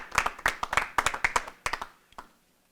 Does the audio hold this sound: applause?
yes